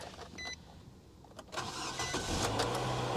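A 2015 Dodge Durango's engine cranks and fires up about halfway through after a faint beep, then settles into a steady idle heard from close by.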